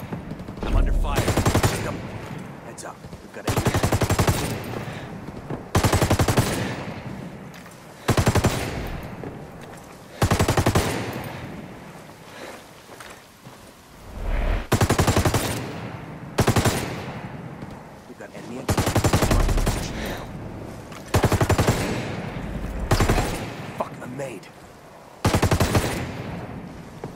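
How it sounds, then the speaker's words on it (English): Machine gun fire in a combat video game: repeated long, loud bursts of rapid shots separated by short quieter gaps, keeping up a steady pattern of sustained fire. "I'm under fire."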